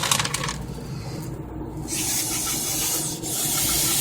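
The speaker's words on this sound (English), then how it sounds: "I'm going to spray this down." Cleaner hisses out of a spray can in several bursts onto the brake caliper pistons of a 2008 Honda Odyssey, close and loud, with short pauses between sprays.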